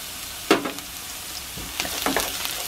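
Garlic drops into a pot of hot cooking oil and sizzles, with a few sharp bursts of frying and stirring over a quiet background, no voices.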